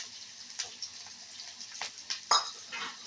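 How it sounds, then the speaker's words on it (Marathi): Chillies, peanuts and curry leaves are stir-fried in a pan, with a soft sizzle underneath and scattered scrapes and clinks of the stirring utensil against the metal, close and fairly quiet. "हे सर्व अनेकदा परतून घेणार"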